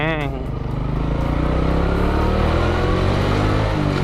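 A Honda Karisma 125 motorcycle engine roars loudly and steadily in first gear, a dense continuous drone heard up close from the rider's position with no pause throughout.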